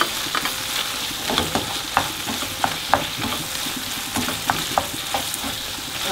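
Cream cheese cooks in a pan over a medium gas flame, with a steady low sizzle broken by repeated utensil clicks and scrapes as it is stirred, close and with no talk.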